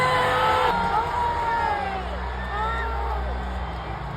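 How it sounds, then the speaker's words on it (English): A large live wrestling crowd at WWE SummerSlam roars and cheers, with whoops and yells rising over a steady wall of arena noise while entrance music plays through it. "I'll try and show this crowd reaction."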